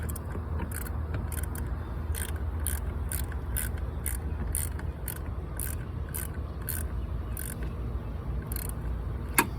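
A hand ratchet snugs down a 10 mm nut on the 12-volt battery clamp of a fourth-generation Toyota Prius, giving a steady run of crisp, evenly spaced clicks close by over a low background hum.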